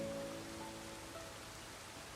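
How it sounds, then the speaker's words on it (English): Steady rain falling outside, a broad even hiss at low level with no distinct drops, with faint tonal game sounds fading out at the start. "It's raining in the game right now, and elegantly, it's more or less raining outside as well."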